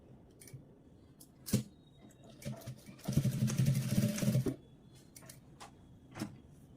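Sewing machine stitching blouse fabric: short separate bursts of needle clatter, then one longer steady run of fast rhythmic stitching, close and fairly loud, with no talk.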